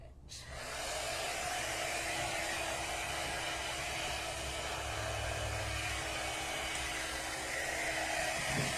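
A heat embossing tool blows hot air over embossing powder while making a kintsugi-style Christmas card. After a brief quiet start, it gives a close, steady whirring rush that runs unbroken to the end with no voices.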